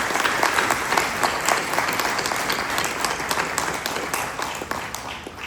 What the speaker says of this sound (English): let's give a big applause in honor of these brave heroes.